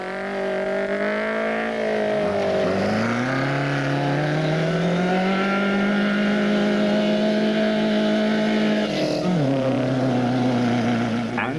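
An off-road race truck engine revs hard in mud at the Lesotho Sun 400, holding a high, straining drone, pitch rising and settling, then dipping briefly near the end.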